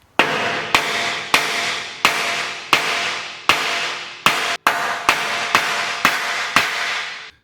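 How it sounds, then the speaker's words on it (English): Hammer blows flatten a lead cannonball fishing sinker into a no-roll sinker: twelve sharp, loud metallic strikes at a steady pace, each ringing briefly before the next, with no talking. "could you turn a cannonball sinker into a no-roll?"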